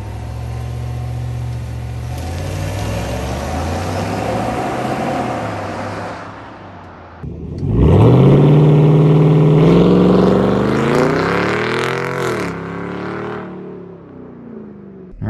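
A 6.2-litre Trail Boss pickup truck in two-wheel drive with traction off revs loudly, goes briefly quiet, then roars back and accelerates hard, engine pitch climbing steadily with a short wheel spin, close and alone.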